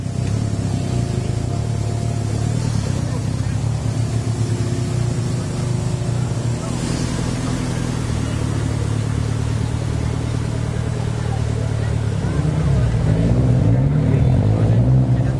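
A 4x4 off-road vehicle at the Maxxis National 4x4 Challenge in Rustenburg crawls over an obstacle course, its engine droning steadily with rises in revs and a louder push near the end, mixed with commentary.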